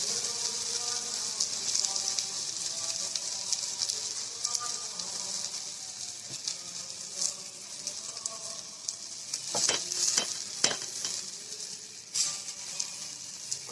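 Raw fish coated in gram-flour batter fries in hot mustard oil with a continuous bright sizzle. Sharper crackling bursts rise partway through, and no one speaks.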